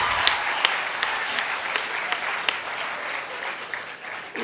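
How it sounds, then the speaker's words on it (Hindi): An audience at a Hindi poetry gathering applauds warmly, a steady crackle of many hands clapping with a few sharper individual claps, fading slightly toward the end. "और तालियां तो इस बात पे"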